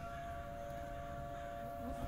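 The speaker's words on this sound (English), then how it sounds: "But I'm wondering what that siren's all about." A continuous siren wails steadily at a distance across a summer camp in a horror game, a sustained tone sitting beneath faint background ambience without any talk.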